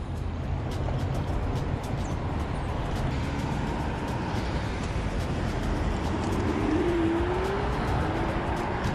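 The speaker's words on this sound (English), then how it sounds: "lots of cars turning in and out of businesses" Street traffic rumbles steadily as cars drive past and turn in and out of businesses, a continuous road roar with an occasional passing engine swelling and fading.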